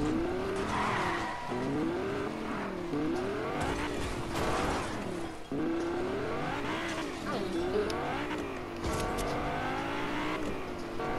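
A car in a Fortnite game crossed with GTA, engine revving up and down in waves with repeated tire squeals and skids as it swings around, loud and close over game background noise.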